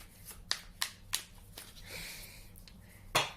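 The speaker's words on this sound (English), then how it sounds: "Look, I'm shuffling. You're watching me shuffle." A few sharp papery snaps and flicks of cards being handled up close, scattered irregularly with brief gaps.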